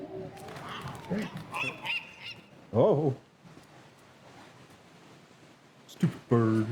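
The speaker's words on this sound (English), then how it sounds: "Stupid bird." A goose-like bird in the video game Dear Esther gives several loud, close honks in separate bursts, with a person speaking briefly between them.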